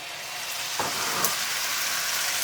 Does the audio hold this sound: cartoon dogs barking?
no